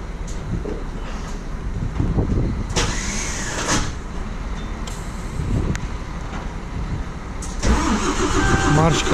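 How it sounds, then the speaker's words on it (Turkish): A car's starter cranks and the engine catches and runs in snowy weather in Istanbul, loud and close, with a person talking over the engine noise. "Marş kaçırdı."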